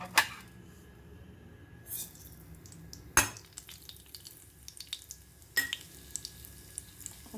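Mustard seeds and asafoetida crackle and pop in hot ghee as a tempering for a roasted, ground green bean palya. Sharp sizzling bursts come up close, with sporadic spattering pops and a steady fry underneath, and no talking.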